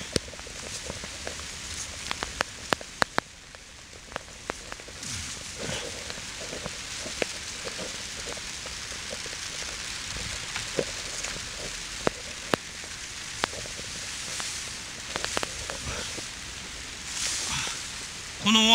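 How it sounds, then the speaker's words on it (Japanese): Heavy typhoon rain pours down steadily over a vegetable garden, a dense hiss of patter with scattered sharper drops, continuous and fairly close throughout. "この大雨はそうなんでしょ"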